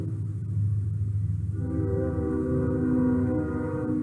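A train passing as a sound effect, a low rolling rumble building after a moment, with a sustained horn-like tonal drone laid over it.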